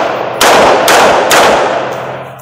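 A futuristic gun in a video game fires three loud, sharp bursts about half a second apart, each blast ringing out close and harsh before fading.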